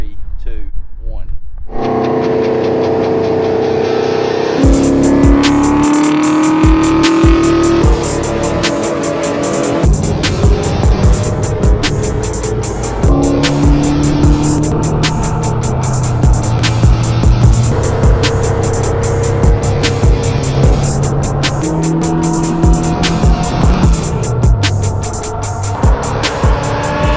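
A modified Ford Mustang road car roars loudly on the road, its revving engine rising and falling through gear changes with raspy, aggressive bursts, close and continuous for the whole stretch.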